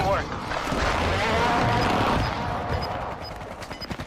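Gunfire in Warzone 2.0, a dense burst of rapid automatic shots and blasts, loud and close, with excited talking over it and scattered clicks trailing off at the end.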